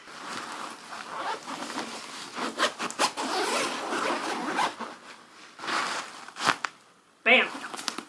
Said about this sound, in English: this is the zip for your extension.